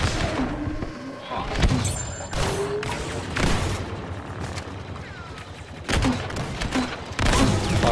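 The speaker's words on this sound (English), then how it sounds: "I'm just shooting up the entrance with grenades." Grenade explosions and gunfire in the shooter Battlefront 2 as an entrance is shelled, with repeated loud booms every second or two over dense, continuous weapon fire and battle noise.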